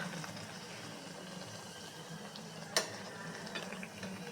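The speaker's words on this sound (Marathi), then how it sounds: "अशाच पद्धतीने सगळ्या पुऱ्या तळून घेत आहे" Sweet puris frying in ghee, a soft continuous bubbling sizzle from the hot fat, heard close and fairly quiet, with one brief sharp tap partway through.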